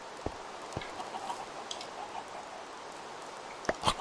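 Minecraft chickens cluck as a few short, sharp separate calls over a steady hiss of falling rain, the loudest pair near the end.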